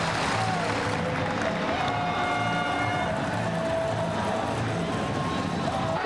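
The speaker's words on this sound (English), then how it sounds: "And the crowd suddenly comes to life." Roaring stadium crowd at a 1997 Super 12 rugby semi-final between the Auckland Blues and Natal Sharks, a broad sustained swell of cheers and applause with faint voices mixed in.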